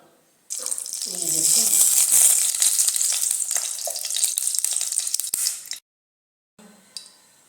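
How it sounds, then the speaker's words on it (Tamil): Cinnamon, cloves, star anise and cardamom drop into hot oil and fry with a loud, bright crackling sizzle that runs steadily for several seconds, then stops abruptly and returns briefly as a quieter sizzle with a low clink. "எண்ணெய் ஊற்றியாச்சு பட்டை கிராம்பு அன்னாசிப்பு ஏலக்காய் போட்டாச்சு"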